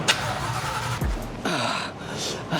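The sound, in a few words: Shelby Cobra old car exhaust sound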